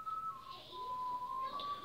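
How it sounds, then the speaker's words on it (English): A tune is whistled during a scene from the TV show Game of Thrones, a steady clear whistled line running throughout at moderate level over quiet background. "Is that whistling?"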